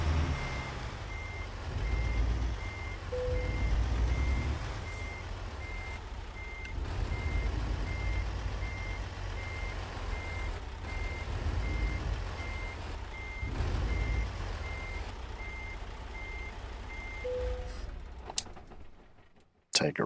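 In a trucking video game, a Kenworth W900 truck backs into a spot with evenly spaced reversing beeps over the low rumble of its engine. Near the end, a hiss like an air brake sounds and someone talks in the background.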